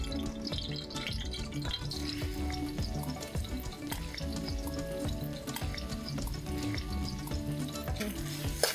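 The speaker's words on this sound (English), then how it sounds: "When the oil is hot, you can add the herb paste that we pounded earlier." Pounded herb paste stir-fried in hot oil in a pan for Thai holy basil pad ka prao, giving a continuous dense sizzle and frying crackle with occasional stirring, heard close and alone without talk.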